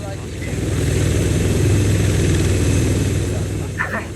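A helicopter in the Arma 3 video game makes a heavy, steady engine drone with deep low rumble that swells in the middle and eases toward the end, while people talk over it.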